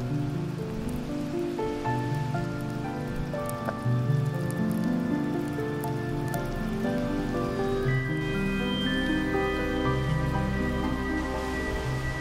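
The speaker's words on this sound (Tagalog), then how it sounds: "Been raining non-stop" Heavy rain falls without a break, a steady, close patter on a surface that continues for the whole stretch.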